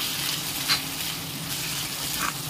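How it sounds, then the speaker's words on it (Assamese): A ginger, garlic and cumin paste sizzles and fries in a pan while being stirred, a steady close hiss with a couple of brief scraping accents and no talking. "গোটেইখিনিকো এতিয়া ভালদৰে ধুনীয়াকৈ মিক্স কৰি লৰাই লৰাই দিম"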